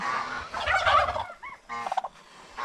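A turkey on a pig farm gobbles in a rapid, rattling burst, followed by a shorter second gobble, loud and close with no talking.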